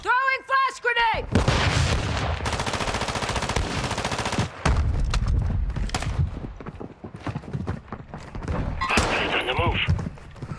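Gunfire and a flash grenade in Warzone 2, with dense rapid automatic fire rattling loudly through most of the clip, punctuated by sharp bangs. Voices and game callouts sound over the shooting.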